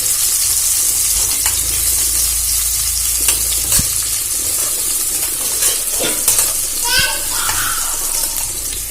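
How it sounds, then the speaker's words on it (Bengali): Chopped onion fries in hot oil while being stirred in a pan for Bengali rui fish kalia: a continuous loud sizzle with scraping and clinks from the stirring, and a voice briefly speaking. "পেঁয়াজটা ভালো করে নাড়াচাড়া করে ভেজে নেব।"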